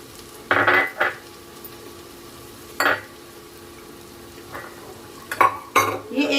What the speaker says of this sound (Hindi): तो मैं ये 1 बाउल शिमला मिर्च डाल रही हूँ